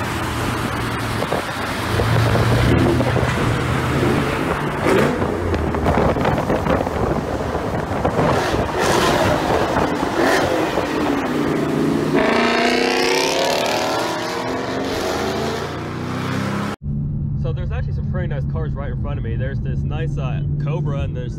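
Cars roll across the Chesapeake Bay Bridge during Ocean City's cruising week, with steady road and wind roar, engines passing and revving close by, and a harsh cut near the end into a quieter stretch with talking.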